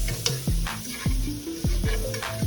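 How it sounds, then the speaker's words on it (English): Butter melts and sizzles in a pan with a steady frying hiss, close and fairly loud. Recurring sweeping tonal scrapes run through it, and no one speaks. "So I'm going to let my butter melt down, make sure it don't burn"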